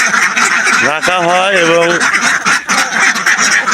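Ducks kept indoors in a farm shed and fed on grain pellets quack in a steady, noisy chorus, with someone talking over them.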